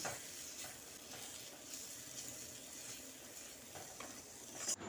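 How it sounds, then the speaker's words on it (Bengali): Spice masala with Kashmiri chilli powder and garam masala fries in a pan, a soft, even sizzle with faint stirring scrapes, fairly quiet and unbroken, no voices. "এবার মশলাটাকে কিছুক্ষণ কষিয়ে নিচ্ছি"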